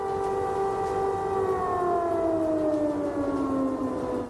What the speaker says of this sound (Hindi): कीव में पिछले 2 दिन से थोड़ी थोड़ी देर पर सायरन बज रहा है